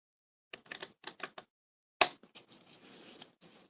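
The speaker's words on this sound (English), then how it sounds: "So I'm gonna cut from here to here, and I'm just gonna use my snips." Small snips cut through paper in a quick run of crisp snipping bursts, then a sharp clack followed by softer rustling and cutting, all close and quiet with no talking.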